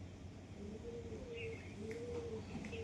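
Pet pigeons coo in low, drawn-out rolling phrases, repeated steadily at close range, with faint chirps and a soft ambient hum behind them.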